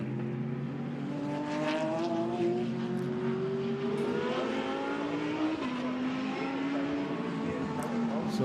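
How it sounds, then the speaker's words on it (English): GT race cars scream past at the Nürburgring, their engines rising and shifting pitch as they accelerate out of the final turn, a continuous loud roar under a commentator's voice. "So there is the view as cars exit out of the final turn, run down up to 250 plus kilometers per hour into turn one."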